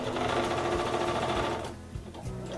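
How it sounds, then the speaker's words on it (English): Sewing machine running a straight stitch along a fabric planter bag, a fast steady mechanical whir close by that slows and stops near the end, with no talk. "I'm gonna put a straight stitch on this side and this side."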